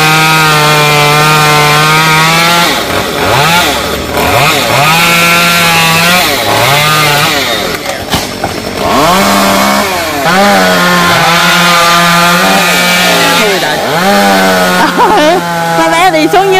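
A chainsaw cuts through a long xà cừ tree branch that reaches past power lines. The engine revs up and down again and again in a steady cutting rhythm, loud and close, and people talk over it.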